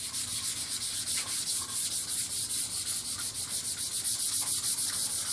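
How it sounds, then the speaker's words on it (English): Continuous rhythmic sanding of dried grain filler on a wooden bass guitar body, a close, steady scratchy rubbing with quick back-and-forth strokes and no talking. "I'm just sanding it down to the grain and not below it"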